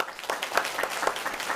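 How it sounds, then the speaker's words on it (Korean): A church congregation claps to welcome a child after an infant baptism, a steady round of applause with irregular louder bursts throughout, fairly close and without speech. "우리 부모와 함께 인사할 때 우리 크게 한번 박수로 환영했으면 좋겠습니다"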